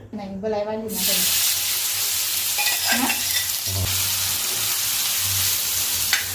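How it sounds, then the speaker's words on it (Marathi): Chutney dropped into hot oil bursts into a loud, steady sizzle right after a brief voice, then keeps frying close up with occasional stirring clinks. "मंद आचेवर चटणी तळायची आहे तर चाळून तळून घ्यायची आहे"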